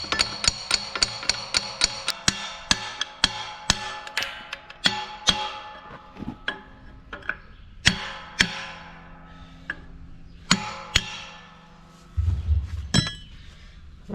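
A hammer taps a metal part onto a diesel roller compactor, giving a long series of bright ringing clinks at an irregular pace, loud and close, ending in a low scraping rumble.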